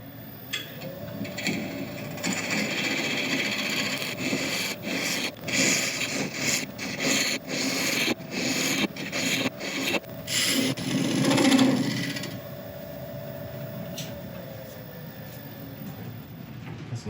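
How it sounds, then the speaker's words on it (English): A woodturning tool cuts a recess in a resin and wood piece spinning on a lathe, giving a continuous rasping scrape with rapid repeated chatter bursts over the steady motor hum, then settling to the motor alone. "let's just quickly cut this recess and then take it from there"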